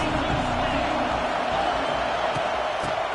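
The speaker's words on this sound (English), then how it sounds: "This crowd trying to make life miserable for this offense." Steady, dense roar of a football stadium crowd at a Texas A&M vs Georgia game, loud and unbroken throughout with no distinct voices standing out.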